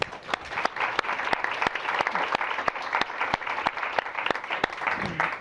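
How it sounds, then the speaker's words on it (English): An audience at a policy talk applauds to welcome a speaker, steady dense clapping from a room full of people with a few sharp individual claps standing out, sustained throughout. "So please join me in giving her a round of applause and welcome her to our event today."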